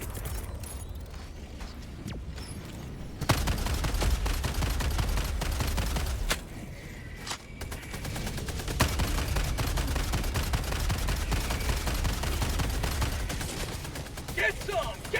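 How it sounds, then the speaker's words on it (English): In the video game Helldivers 2, a sentry turret gun fires during a max-difficulty fight against the Illuminate, with bursts of rapid automatic gunfire, mechanical clanks and loud impacts starting a few seconds in, mixed with game effects and occasional voices. "Sending down sentry."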